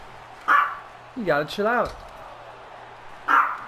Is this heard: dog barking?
yes